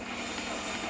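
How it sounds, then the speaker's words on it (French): A police helicopter in the video game GTA IV gives off a steady, dense rotor and engine whir, loud and unbroken throughout a brief moment, with no speech. "Donc on se fait un hélico dès le début de la vidéo."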